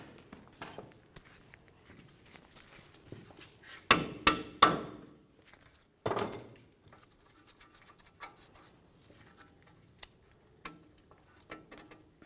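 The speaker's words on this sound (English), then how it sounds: "Now let's continue on with a hammer and pickle fork and separate the ball joint from the knuckle." Hammer striking a pickle fork to separate a ball joint from the knuckle on a 2002-2005 Ford Explorer, three sharp metallic blows in quick succession then a fourth after a pause, with faint clicks around them.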